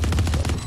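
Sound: gunfire in a video game

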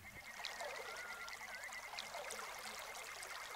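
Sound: creek flowing water

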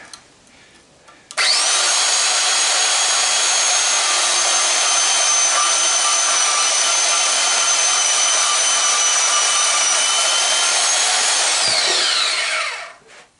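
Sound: Porta-Band portable band saw cutting copper from motor stator

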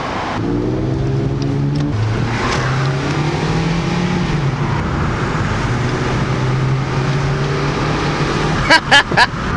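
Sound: old Audi car engine revving while driving

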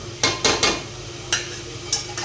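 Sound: ginger garlic paste frying in a pan

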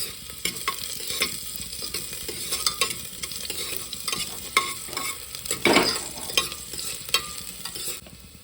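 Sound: frying chopped onion, chilli and garlic

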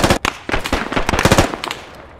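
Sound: gunfire in Squad video game

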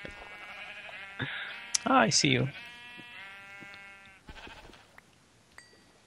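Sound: sheep bleating in Better Than Wolves (Minecraft mod) video game

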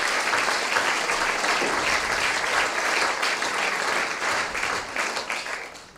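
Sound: audience applause at a comedy show

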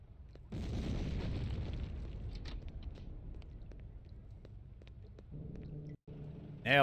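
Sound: bomb explosion in the video game Hitman 2: Silent Assassin

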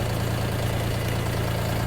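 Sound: YTO SK 244 SX tractor engine idling around 1000 rpm

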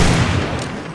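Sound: gunshots in a video game

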